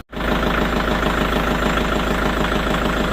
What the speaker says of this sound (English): I'm going to go ahead and start the tractor